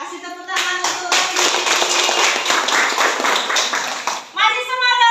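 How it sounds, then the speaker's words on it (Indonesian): Classroom audience clapping during a university teacher-training lesson, a dense burst of many hands lasting several seconds, with a voice speaking at the start and again as the clapping fades. "Kasih tepuk tangan untuk"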